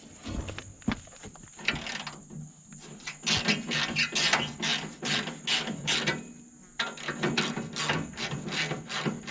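A GearWrench socket set ratchet clicking and rasping in rapid bursts, close and fairly loud with a mechanical rubbing texture, no talking.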